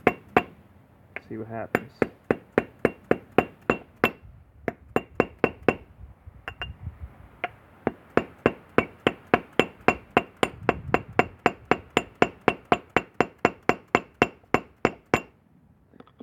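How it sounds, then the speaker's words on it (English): A chisel is struck against hardened polyester resin encasing a Mario figure, giving a long series of sharp, evenly spaced clinking taps with brief pauses, close and crisp, while a person speaks briefly. "It's time for Mario to be released from his prison. I'll try to just chisel it."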